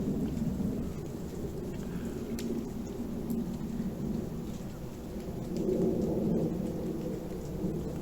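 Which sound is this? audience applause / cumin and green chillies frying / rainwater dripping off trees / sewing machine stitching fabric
rainwater dripping off trees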